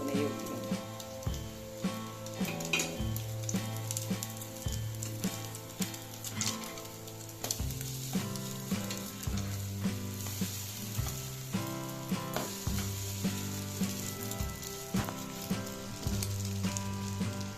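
Egg bread frying in ghee on a pan gives a steady, close sizzle that runs the whole time under continuous background music.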